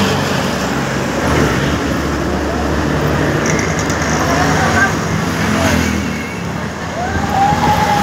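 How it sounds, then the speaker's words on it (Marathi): Busy road traffic at night, a loud continuous roar of passing vehicles heard from close by while travelling, with a voice at times. "गाड्या पण खूप आहे."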